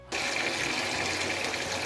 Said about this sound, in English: so now I just have here a sink full of water